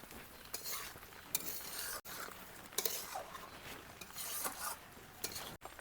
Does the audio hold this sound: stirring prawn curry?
yes